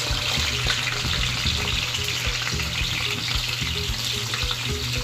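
Potatoes and carrots fry in oil for goat kaldereta, a steady loud sizzle with continuous bubbling crackle and occasional stirring clatter, close up with no talking.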